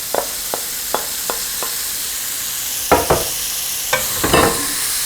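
Freshly ground chuck roast hits a pan of toasted spices and salt and sizzles steadily, while a spoon scrapes and stirs in short, sharp, repeated strokes close by.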